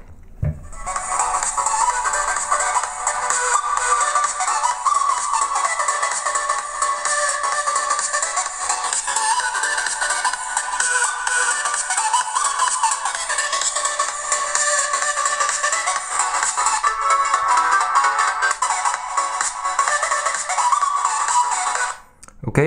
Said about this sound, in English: the sound here is coming out the Inatec Bluetooth speaker here